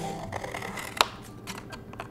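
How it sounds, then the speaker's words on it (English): Scissors snipping through paper nearby, a few soft crisp cuts with one sharper snip, quiet and without talking, while cutting out a paper lily pad craft. "So now it's time to cut it."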